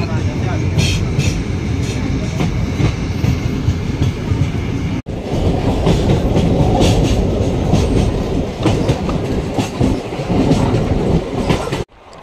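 A passenger train rolls near Kathua railway station with a loud continuous rumble and rhythmic clickety-clack of wheels over rail joints, heard from inside a coach, with a brief dip midway and faint voices underneath.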